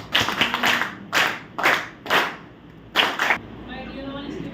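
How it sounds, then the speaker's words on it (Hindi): Bursts of hand clapping from a group honoring a departing teacher at a school farewell, coming in five or six short, loud rounds separated by brief pauses, with a little murmuring between them. "मैडम के लिए एक बार जोरदार ताली दीजिए।"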